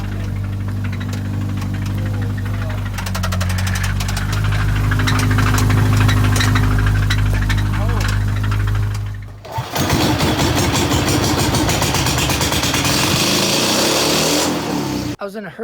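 A failing Subaru Impreza engine runs roughly with a loud, low, uneven knocking drone, then cuts out briefly before a harsher, rattling, noisy stretch of running resumes, up close.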